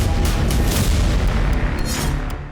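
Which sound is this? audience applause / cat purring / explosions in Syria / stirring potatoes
explosions in Syria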